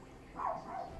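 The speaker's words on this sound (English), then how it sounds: "Guess I'll end this while he's barking." A dog barks once indoors, faint and distant, over a low background hum.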